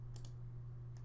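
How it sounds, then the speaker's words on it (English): Computer mouse clicks on an on-screen button in SPSS: a quick double click, then one more click a moment later, faint and crisp over a low steady hum. "Click OK."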